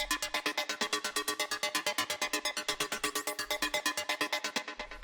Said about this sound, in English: The next thing that we have here is the lead,